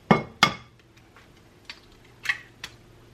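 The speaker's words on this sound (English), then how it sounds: "I'm going to crack 1 egg." Two sharp cracks of an egg against a bowl rim start things off, followed by lighter glassy clinks and taps from a mixing bowl while cookie dough is being prepared.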